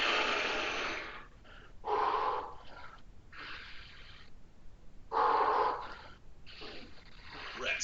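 Forceful breathy exhales during a strength flow exercise session, several loud airy bursts in an uneven rhythm, close to the microphone with quieter breaths between.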